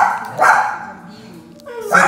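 Two short, close dog barks sound about a second and a half apart, with indoor voices talking around them.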